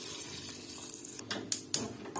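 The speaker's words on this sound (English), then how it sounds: "Now I need to add a boiling water" Boiling water poured into a pot of Egyptian kushary, heard as a soft, splashy trickle that builds into a few louder gushing bursts toward the end.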